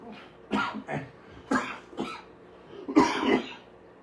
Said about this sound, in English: excuse me, my cough is still around